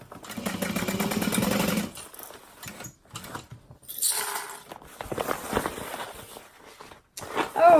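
Sewing machine stitching the seam on a handbag's bottom panel, a close whirring burst of stitching followed by shorter start-stop runs and handling clatter.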